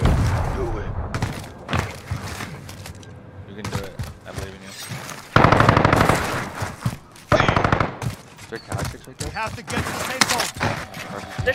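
Automatic gunfire in a multiplayer shooter Rebirth match rattles in sharp bursts separated by gaps, loud and close. Players talk over the shots.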